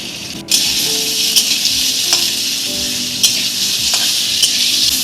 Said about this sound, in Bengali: এবার চৌকো করে কাটা পনিরগুলো আস্তে আস্তে ভেজে নিলাম